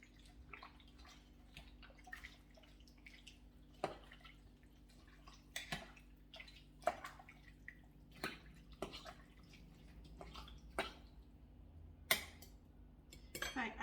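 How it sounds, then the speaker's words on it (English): A spoon stirs beef casserole ingredients in a pot, giving quiet, irregular clinks and wet scrapes against the metal over a steady low background hum. "we'll stir that all up like that"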